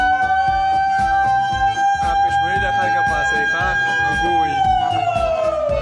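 A man imitates an ambulance siren over a mosque loudspeaker during Ramadan to wake people for sehri, a loud wailing voice holding a rising and falling tone, broadcast through the speaker with a harsh, amplified ring.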